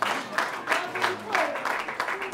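Scattered applause from a gathered crowd at a memorial event, clapping in short uneven bursts that rise and fall, moderately near, with voices mixed in.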